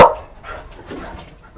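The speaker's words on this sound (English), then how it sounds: "barking dogs" Dogs barking on a farm: one sharp, loud bark at the start, followed by fainter, more distant yips and barks over a moment or so.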